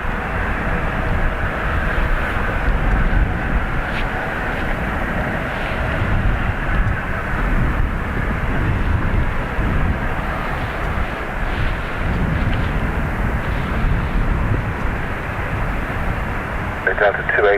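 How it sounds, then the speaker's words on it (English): A Ryanair airliner, flight FR495 to Madrid, at Dublin Airport gives a continuous broad jet roar at moderate distance, with radio and voice chatter running over it. "This is FR 495 Ryanair off to Madrid."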